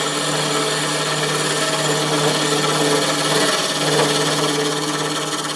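Wood spins on a lathe for a pillar candlestick while a tool takes light cuts, giving a steady motor hum under a soft, continuous scraping rasp close at hand.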